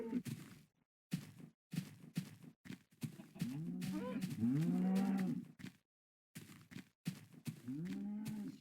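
Cows lowing in a video game, several drawn-out moos, one loud and sustained in the middle, broken by short footsteps and gaps of silence.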